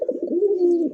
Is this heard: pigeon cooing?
yes